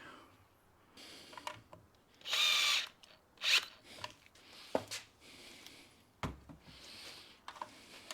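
A power drill drives a screw in a garden build, giving two short whirring bursts close by among quiet handling noises.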